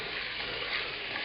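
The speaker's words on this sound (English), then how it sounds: "Now we're putting the pork tenderloin in" Pork tenderloin pieces fry in paprika-seasoned fat in a pot for a Romanian tochitură stew, giving a loud, steady, close sizzle with a dense crackling hiss and no speech.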